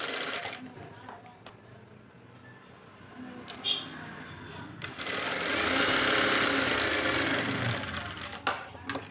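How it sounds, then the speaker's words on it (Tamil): A sewing machine stitches a blouse lining in short bursts, quiet handling and a voice coming before a louder, sustained run of rapid stitching near the end. "ஒரு 1/4 இன்ச்சு தள்ளி தையல் போடுறோம்."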